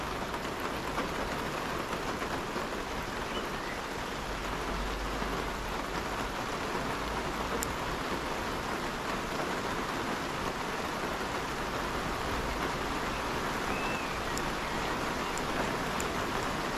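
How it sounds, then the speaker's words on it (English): Rain falls steadily outside a greenhouse, a soft continuous hiss of drops that stays even and fairly faint throughout, with no voices. "It's still raining."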